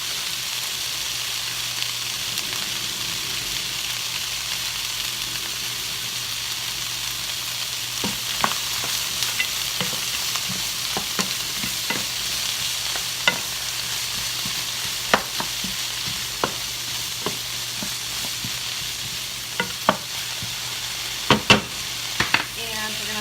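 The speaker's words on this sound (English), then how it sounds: "we're gonna turn this up high because our frozen peppers are going in" Frozen peppers frying in a hot pan, a loud steady hiss and sizzle with scattered pops and a few clatters of utensils, heard up close.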